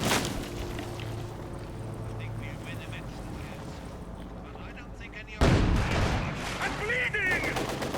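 Tank cannon fire and battle explosions in Company of Heroes 2 as a T-34 scores a hit: a continuous din of shots and rumbling, then a sudden loud blast mid-way followed by crackling debris and more firing.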